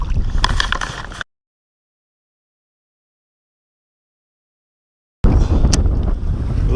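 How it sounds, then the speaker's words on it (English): Strong gusting wind buffets the microphone while kayak fishing on open water in Nebraska, a loud continuous roar in two bursts separated by a stretch of dead silence, with no talk. "This is the most wind I've ever fished in my yak"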